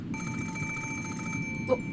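An antique extension telephone on a study table in the Umineko visual novel game, ringing with a steady, continuous electric bell trill nearly the whole time before cutting off with a brief knock, over a soft background hum.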